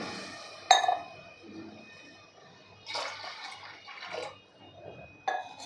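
Water from a glass is poured into a pan of fried lentils for dal in a home kitchen, heard as a faint, soft gush in short bursts, with an occasional light clink of glass or utensil in a quiet room.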